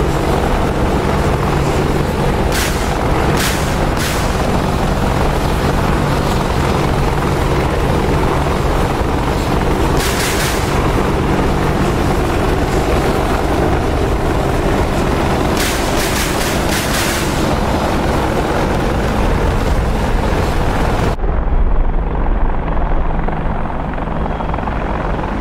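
Helicopters flying in the DCS combat flight simulator during a border patrol mission over Cyprus, a loud continuous rotor drone with repeated bursts of sharper noise.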